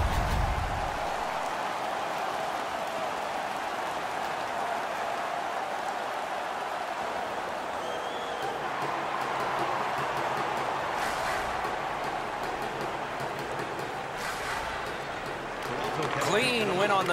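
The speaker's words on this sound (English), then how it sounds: "The crowd is ecstatic." At a Toronto Maple Leafs versus Montreal Canadiens hockey game, an arena crowd roars and cheers after a fight, a dense, sustained wash of noise with a commentator talking over it.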